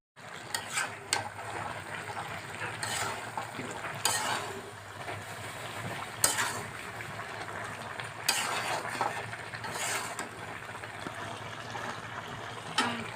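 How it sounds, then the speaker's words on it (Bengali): Chicken curry with ash gourd is stir-fried in a village kitchen pot, a spoon scraping and stirring in irregular bursts over a soft steady sizzle, close and moderately loud. "তো এই তরকারিটা আমি এখন ডাইকে দেবো নিম্নে 4-5 মিনিট কষাবো তরকারিটা"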